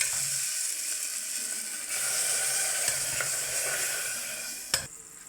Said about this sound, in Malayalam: നല്ലപോലെ എണ്ണയ്ക്കകത്ത് ഇട്ട് നമ്മളൊന്ന് വഴറ്റുകയാണ്